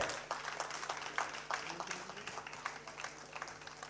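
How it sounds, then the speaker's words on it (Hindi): Steady applause from an audience at a Lions Club honours ceremony, dense clapping continuing throughout over a low hum in a hall. "जोरदार तालियां बजती रहे।"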